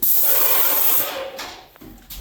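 A Graco paint sprayer set to about 35% pressure sprays primer on new-construction drywall, giving a loud, close, continuous airy hiss that eases off toward the end, with no voices.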